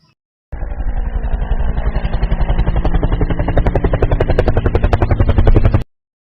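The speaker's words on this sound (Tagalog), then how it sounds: "This is the sound of a helicopter." A helicopter presented among transportation sounds, its engine and rotor making a steady loud drone with rapid rhythmic chopping that grows more pronounced toward the end, heard alone.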